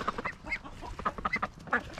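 Baby ducklings quack and peep in a busy, continuous chatter at a farmyard feeding spot near chickens, close and fairly quiet, with scuffling background noise.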